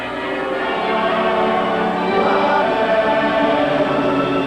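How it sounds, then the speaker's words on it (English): Church bells peal at St. Paul's Cathedral in London on Easter Sunday, a dense, loud, continuous wash of overlapping bell tones ringing steadily throughout with no voices. "The bells pealed this Easter Sunday at St. Paul's Cathedral in London"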